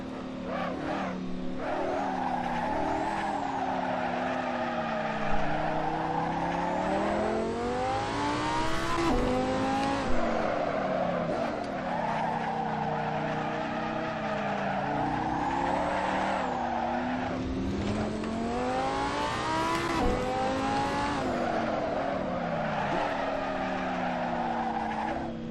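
Lamborghini Superleggera race car in Assetto Corsa screams through rising and falling revs, with tires squealing and skidding through the corners as the engine note swoops up and down over a long stretch.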